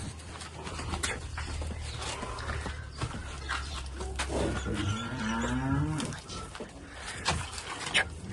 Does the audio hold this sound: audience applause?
no